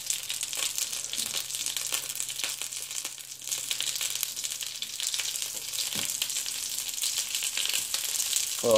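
Fish sticks sizzle and crackle steadily in a frying pan, a close, continuous hiss with occasional louder pops and scrapes throughout.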